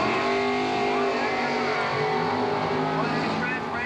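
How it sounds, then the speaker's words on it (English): A drag race car engine revs at Englishtown during the Super Stock Nationals, a raspy, fluctuating roar heard at a distance under a continuous announcer's voice. "Revving it up."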